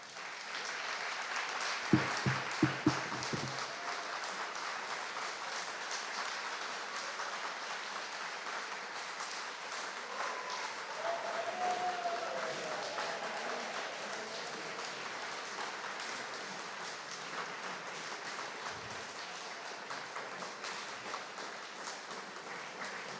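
Pilot graduates of Qantas Group course QG31 are welcomed into a hangar with a soft, steady round of applause that carries on for a long stretch. A few sharp knocks sound early, and the clapping stays fairly distant throughout.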